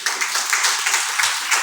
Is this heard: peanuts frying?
no